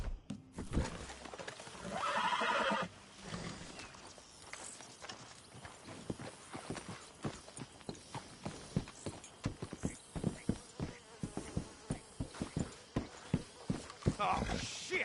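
Horse hooves clip-clop in a steady walking rhythm in the video game Red Dead Redemption II, growing sharper and closer, after a horse whinnies early on, with people talking over the scene.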